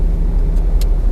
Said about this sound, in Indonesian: Seperti biasa kita dengerin raungan dari mobil 1200 cc ya